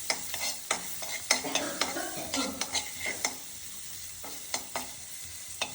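Green garlic, chili and ginger are stirred into hot oil tempered with asafoetida for moong soup, a sizzling hiss broken by repeated scraping and clinking spoon strokes against the pan, close and without speech.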